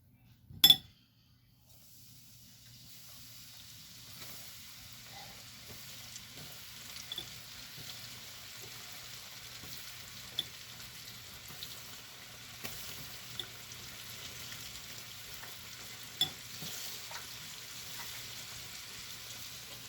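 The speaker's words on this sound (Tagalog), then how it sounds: "Coat it. And drop it in the oil." Coated chicken pieces for chicken bites frying in oil, a faint, steady low sizzle with a sharp clink at the start and a few soft ticks and pops scattered throughout.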